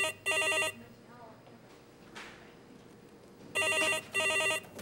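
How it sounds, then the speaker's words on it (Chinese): An old-style telephone bell rings in two loud double bursts at a nurses' station, near and clear, with a quiet room and faint movement in the gap between rings. "接电话。 不要，你去接。"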